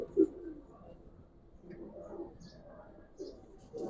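Soft, low cooing of Giribaz pigeons in short murmuring phrases, fairly quiet and close, with faint rustling in the background.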